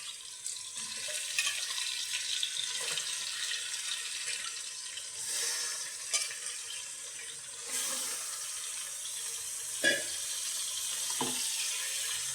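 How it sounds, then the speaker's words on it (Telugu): Goat head meat frying in a pan with ginger-garlic paste, a steady, moderately loud hiss and sizzle throughout, broken by a few brief stirring knocks near the end, with no talk. "ఇప్పుడు తలకాయ మాసం మొత్తం వేయించేస్తాం"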